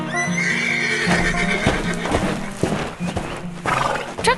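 Animated farm scene with two brown horses in a trailer pulled by a green tractor: loud repeated whinnies and neighs over clip-clopping hooves and busy background sound, with no talk.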